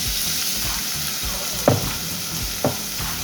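Chopped onions sizzling in hot oil in a pot on the stove, a steady close fry with a couple of sharp scrapes or clanks of a utensil against the pot.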